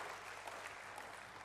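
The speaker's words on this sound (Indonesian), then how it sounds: "Berikan tepuk tangan bagi Tuhan." A church congregation claps in praise during a sermon, a brief, faint, steady patter of applause from a distance.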